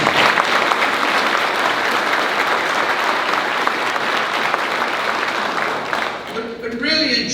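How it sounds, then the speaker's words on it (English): Sustained applause from the audience at a Louisiana Tech announcement with the governor, dense and steady for about six seconds before thinning into a voice at the end. "How about a round of applause to them?"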